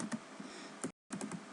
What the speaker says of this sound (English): we're going to type in here